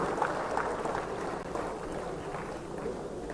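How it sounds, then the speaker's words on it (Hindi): Crowd at a political rally in Jaipur applauds in a dense, sustained roar of clapping mixed with cheering voices, heard from some distance and fairly even throughout. "अपने आप के लिए एक बार जोरदार तालियां बजाने का काम करो।"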